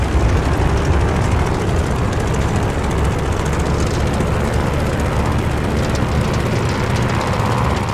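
A propeller fighter plane in Call of Duty Vanguard roars at full power during takeoff, a dense, steady engine drone with no break, loud and close throughout.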